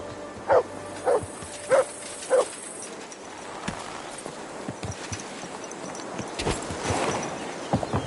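A dog in a medieval video game barks four times in a steady, evenly spaced series, close and distinct, followed by quieter clattering and hoof-like background noise.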